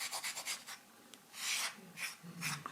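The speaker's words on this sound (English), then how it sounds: "and rub off any excess here" A hand rubs pigment into the carved grooves of a kolrosed wooden spoon, making soft, close scratchy strokes in short bursts with brief pauses between them.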